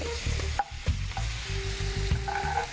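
Turmeric and chili powder frying in a pan with a splash of water added, giving a steady close sizzle with repeated stirring scrapes and knocks throughout, no talking.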